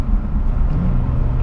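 A Nissan Z sports car drives along with a loud, close, low engine rumble and road roar that holds steady for a short stretch, no voices over it.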